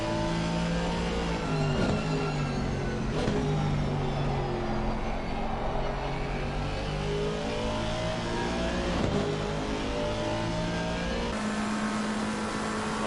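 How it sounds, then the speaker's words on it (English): Aston Martin race car in a sim racing game at Watkins Glen, its engine revving and accelerating loudly and continuously with shifting pitch, no voices over it. "It sounds unbelievable, this car."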